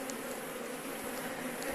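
Dense, continuous buzzing of a large swarm of Africanized honey bees inside an abandoned mill, close and steady with no voices.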